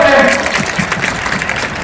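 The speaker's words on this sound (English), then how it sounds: "A big round of applause for him." Applause from an audience at a school sports meet ceremony in Gulbarga, steady broadband clapping throughout under a speaker's voice, moderately loud and sustained.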